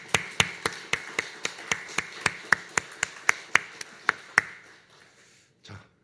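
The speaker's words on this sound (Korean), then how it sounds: "우리 영광의 박수 올려드리도록 하겠습니다" A church congregation claps in unison, with about fifteen crisp, evenly spaced claps in a steady rhythm. The claps stop, leaving a brief quiet before one final soft sound.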